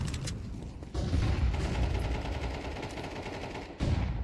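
AK and FAMAS rifles fire in a Counter-Strike pro league match, a dense rattle of rapid automatic bursts with brief pauses between them, loud and close with no speech.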